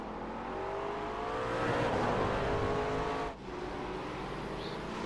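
A GT3 race car engine roars close by at Zandvoort, its pitch climbing and wavering as it revs hard, then briefly dips before droning on.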